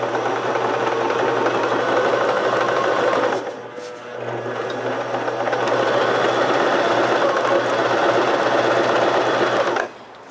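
A sewing machine runs fast with no thread, its needle punching through fabric in a dense continuous whir, with a brief slowdown in the middle before it speeds up again and stops.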